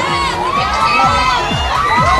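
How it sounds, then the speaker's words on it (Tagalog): A crowd of children shouting and yelling outdoors, loud and continuous, with overlapping excited voices throughout. "Nagsisigawan yung mga bata."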